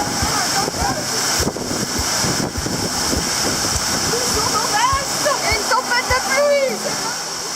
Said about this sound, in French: on se prend une rincée monstrueuse